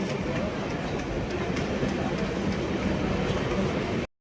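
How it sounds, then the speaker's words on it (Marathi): A Mumbai local train pulls into the station platform with a loud, continuous, near rumble of wheels and carriages that stays steady for about four seconds, then cuts off abruptly. "त्यावेळेस लोकल आली"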